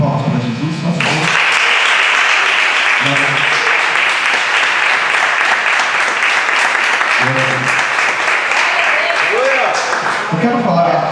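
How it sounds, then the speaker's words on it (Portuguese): A church congregation breaks into loud, sustained clapping that fills the room with a dense, even wash of many hands. A voice speaks over it at the start and briefly near the middle and end. "dá uma salva de palmas para Jesus, nosso Deus."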